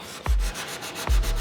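A fiberglass cowl hood for an 88-98 Chevrolet Silverado being sanded by hand with P150 sandpaper, making a steady raspy rubbing with two heavier thumps as strokes begin, close and moderately loud without speech.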